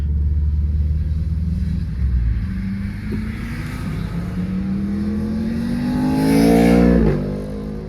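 A 1997 Mercury Cougar XR-7 V8 with 153k miles pulls away, its deep engine rumble climbing steadily in pitch as it accelerates, loud and near throughout without any voices.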